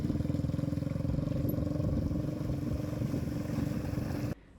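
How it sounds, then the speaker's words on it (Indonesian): A motorized rickshaw (becak motor) chugs through flood water on a washed-out road in Aceh Singkil, its engine throbbing loud and close in a rapid pulsing beat before cutting off abruptly near the end. "Beruntung di lokasi ada becak motor yang rela menembus banjir demi membantu pengendara roda 2"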